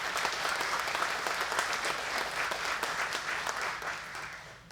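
Steady applause from a panel audience at an architecture symposium, sustained and even for several seconds before tapering slightly at the end, with no talk over it.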